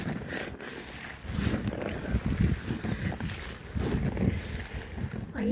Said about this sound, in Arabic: الريح كينفخ